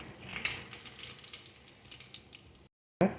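Cinnamon, cloves, cardamom and bay leaf sizzle in hot oil in a kadai for chicken kurma gravy: a steady, close crackling hiss that runs continuously, then cuts out briefly before a short burst returns.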